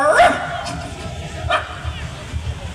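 A voice imitates a dog's bark, giving a short yelping bow-wow up front and another brief yip about a second later, over crowd noise at an outdoor cultural festival.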